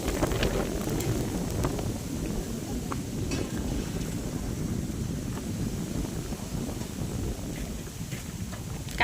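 Wind blows steadily beside flowing cold water outdoors, a broad rushing hiss and gurgle with occasional faint clinks and no talking.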